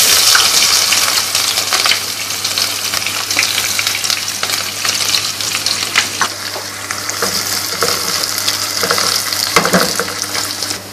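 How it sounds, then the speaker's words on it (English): Onions frying in hot oil, a loud steady sizzle with bright crackle and occasional stirring scrapes and clinks, close up and continuous without any talk. "Now we're gonna put the onions in it."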